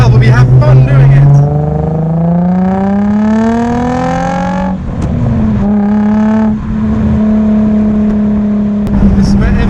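A Nissan 350Z with a custom exhaust accelerates hard through a tunnel, its loud engine note climbing through the gears in rising sweeps with shifts between, booming and echoing up close.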